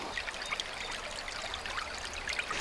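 A Scottish creek burn flowing over its bed, a steady close babble and trickle with bright splashes scattered throughout and no voices.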